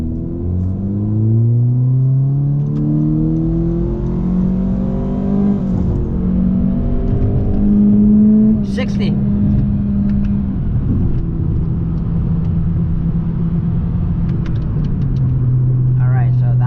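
A 2019 Honda Civic Sport with the K20C2 engine and CVT pulls hard from 0 to 60, its engine note sweeping upward, dropping and climbing again loud and close inside the cabin, with a voice talking over it.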